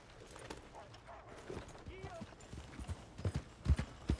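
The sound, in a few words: horses passing by in Red Dead Redemption II video game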